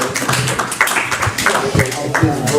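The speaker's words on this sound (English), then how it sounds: "Round of applause for Steve Stone." An audience at a lecture applauds with steady, close clapping that runs throughout, mixed with a voice talking over it.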